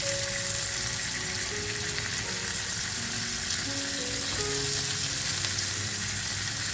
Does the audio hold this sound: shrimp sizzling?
yes